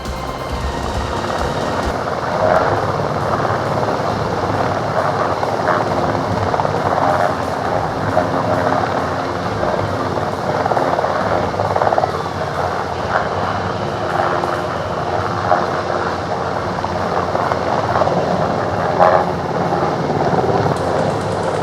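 A rescue helicopter circles during a 2023 Safe Korea disaster response drill in Hapcheon County, carrying evacuees from a rooftop. Its loud rotor and engine drone holds steady throughout, with no voices.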